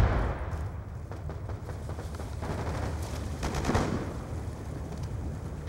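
Frag grenade explosions and heavy gunfire in Black Ops 2, rolling through the whole stretch at moderate loudness with a louder burst near the end and no clear talk.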